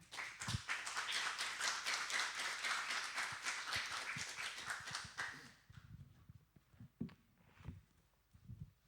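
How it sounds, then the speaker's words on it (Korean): Church congregation clapping to welcome a visiting professor, loud dense applause lasting about five seconds, then tapering into scattered separate claps and a few voices. "여러분 환영함으로 또 박수함으로 그렇게 맞으시길 바랍니다."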